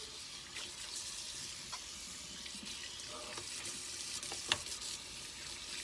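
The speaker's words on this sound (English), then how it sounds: "So then I need to rinse that off." Running tap water rinses soap off a plate at a kitchen sink, a steady faint hiss of flowing water with small splashes and clinks throughout.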